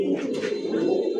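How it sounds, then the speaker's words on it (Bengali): A tame pigeon cooing up close, a steady low throaty burble with a faint brush of fluttering wings near the start. "তো ভাই এই ট্যাম কবুতরটা"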